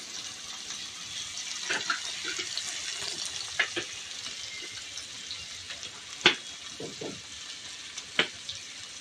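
Steady sizzling of food frying in a pan, with occasional scraping stirs and light clinks standing out above the hiss.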